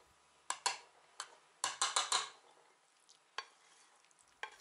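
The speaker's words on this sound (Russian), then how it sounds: "В толченую картошку добавляю зажарку и аккуратно перемешиваю" A spoon stirs fried bacon into mashed potatoes, a few sharp clinks and scrapes in scattered groups against the pot over a quiet background.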